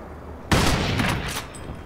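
Sniper rifle fire in the video game Crysis: a sudden loud shot burst with a few rapid follow-up cracks fading away, with no voices.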